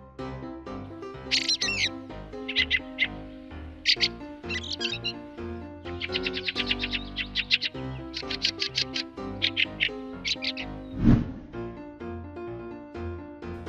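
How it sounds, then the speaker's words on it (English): Aztec thrush calling: a run of bright, high chirping phrases repeated at an irregular pace, with one louder burst near the end, over a steady low musical backing. "Aztec thrush."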